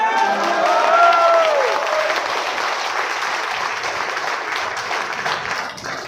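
An audience at a meeting claps, with loud dense applause that swells early and then gradually thins while a voice is briefly heard over the start.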